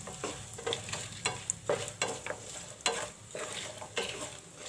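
Cumin, red chili, cashews and raisins sizzle in hot oil for a khichdi tadka over a medium flame, a steady crackling fry broken by repeated scraping stirs, close and moderately quiet, with no talking.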